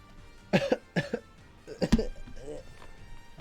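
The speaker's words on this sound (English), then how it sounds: "I don't know why I started coughing." Three harsh coughs in quick succession, close to the microphone, followed by a softer throat sound and some low murmuring.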